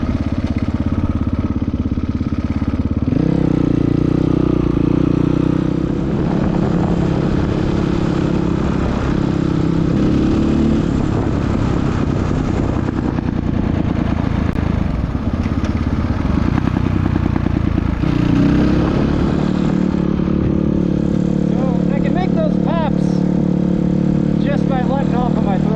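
A 2022 GPX FSE300R motorcycle fitted with an ARacer ECU, its deceleration fuel cut switched off, runs steadily and loudly the whole time with revving swells. Crackling exhaust pops are mixed into the engine drone.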